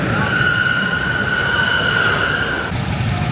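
A rocket-shaped Mind Blower roller coaster train at Fun Spot America rolls past with a steady, loud rumbling roar and a sustained high wheel squeal, ending in a slight shift as it moves away.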